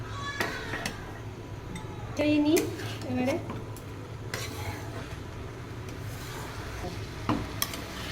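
Rice and lentils stirred in a pot for khichuri, a spoon scraping and clinking against the metal with a soft sizzle underneath, steady and close, while a voice speaks briefly.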